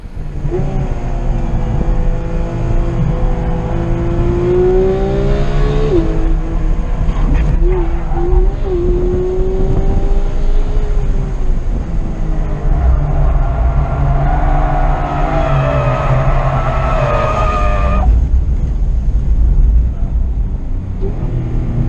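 A loud 2018 Porsche 911 GT3 (991.2) engine roars and revs through gears at speed on a track, pitch climbing and dropping with each shift, with wind and road noise throughout.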